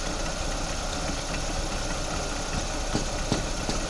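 A car engine running with third gear engaged, one wheel locked and the driven wheel turning, showing a slight wobble near the CV joint; a steady close mechanical drone with faint knocks toward the end.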